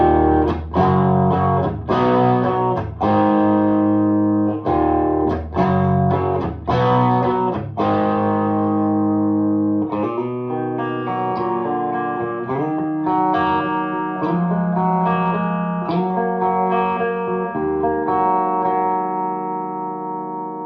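Electric guitar played through a Mesa Badlander 25 head on its clean channel with a Seymour Duncan distortion pedal in line, loud strummed chords and ringing sustained notes with rhythmic attacks early, then slower let-ring phrases, no talk.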